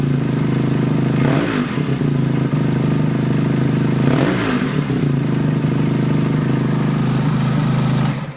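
An engine idles steadily while warming up ahead of carburetor tuning, a constant close, loud running drone with two brief surges, and no talk over it.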